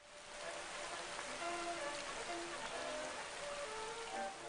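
Steady heavy rain pours down, a dense even hiss with scattered drops pattering on surfaces, no voices.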